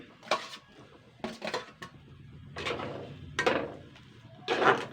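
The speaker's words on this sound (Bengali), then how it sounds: "নারকল কোড়ানো বা নারকল কুচানো এটা দিয়ে দিচ্ছি" Grated soft coconut is added to a pan over a low flame, with several distinct metallic clanks and scrapes of a spoon against the pan coming in separate bursts over a quiet background.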